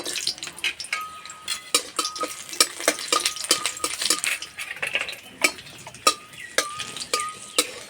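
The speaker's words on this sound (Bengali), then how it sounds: "এই তেলে 4 কোয়া রসুন দিয়ে দেবো।" Four garlic cloves fry in mustard oil under a faint steady sizzle, while a spatula or spoon clinks and scrapes against the pan in a quick, irregular rhythm.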